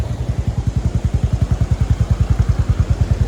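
A motorcycle engine runs loud and close on a ride through Misamis Occidental, its steady low, rapid pulsing chug continuing without a break.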